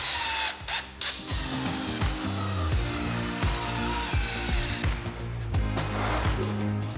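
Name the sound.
power drill driving screws into wood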